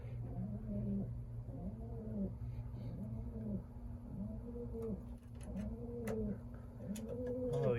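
Racing pigeons back in their loft after a 250-mile race from Onawa, Iowa, cooing in steady overlapping rolls close by over a constant low hum, with faint scattered rustles and clicks.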